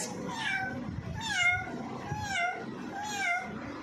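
A voice imitates a cat, giving four drawn-out meows in a steady series, close and clear with a faint background murmur.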